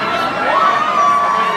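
A lively crowd at a nighttime party cheers and shouts together, loud and sustained, with a piercing whistle-like tone held through the second half.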